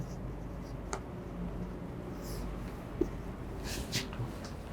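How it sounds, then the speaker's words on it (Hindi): Someone writes on a classroom board, a faint scratching and tapping over a steady room hum, with a few light knocks. "क्या यहां पर मैं डिग्री लिखता हूं?"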